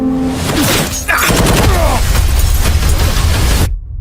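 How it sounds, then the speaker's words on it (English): Action movie trailer gunfire, a dense burst of loud shots and impacts layered over a driving score, running nearly four seconds before cutting abruptly to silence; a brief voice is heard early on. "Why are they shooting at you?"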